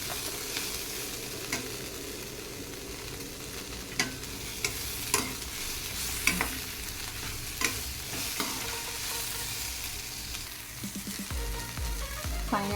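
Tamarind stirred into onion frying in a pan for chutney, a soft continuous sizzle with scattered spoon scrapes and taps against the pan, getting busier toward the end.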